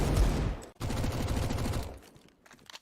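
Rapid gunfire bursts during a Counter-Strike match on the Inferno map at a PGL Major esports event, loud and dense with a brief gap, then fading into quieter scattered shots.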